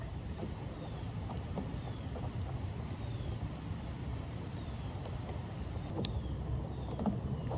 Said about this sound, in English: Not too sure if you guys can hear the rain or even see it